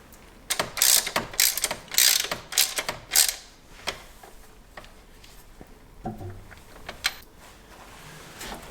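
A ratchet clicks in several quick bursts of loud pawl ticks while engine mount bracket nuts are tightened on a Ford Escape or Mercury Mariner, followed by quieter metallic handling and a few softer clicks.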